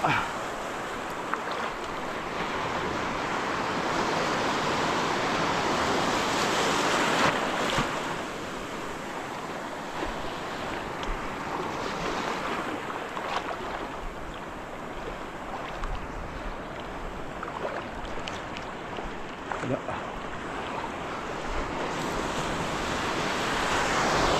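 Steady roar of surf and breaking waves with strong wind buffeting the microphone, continuous and loud throughout.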